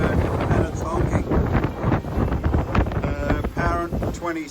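Gusting wind buffets the microphone aboard an HH52 sailing catamaran moving at speed through lumpy open sea. The roar rises and falls loudly, with voice-like sounds mixed in.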